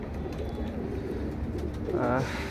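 Pigeons, adults and chicks just released, coo softly and repeatedly close by, with a louder burst of cooing near the end over a low background hum.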